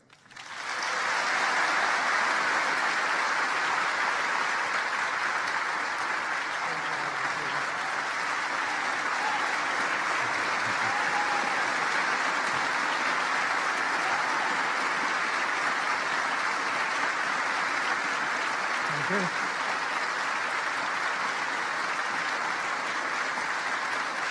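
Sustained audience applause welcoming Congressman Lee Hamilton at a foreign policy speech at Indiana University, steady, dense clapping from a large crowd lasting the whole stretch, without pause.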